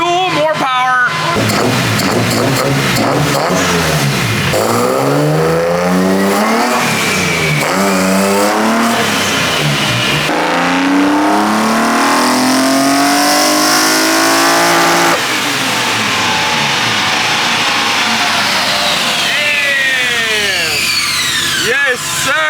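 An ITB-swapped BMW S52 engine in an E30 revs hard on a dyno, its loud intake howl climbing steadily through the RPM range in a long sustained pull, with a voice talking over it.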